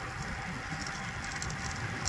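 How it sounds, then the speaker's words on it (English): Rain begins to fall during a bike ride near Eynsford, a steady soft patter and hiss of drops landing on surfaces close by, continuous and even with no talking. "It's starting to piss down with rain now."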